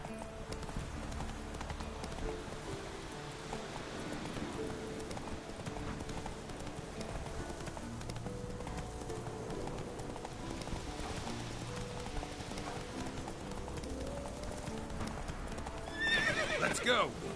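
In The Witcher 3, the horse Roach gallops with rapid, steady hoofbeats at a moderate level under background game sound, then lets out a high whinnying neigh near the end.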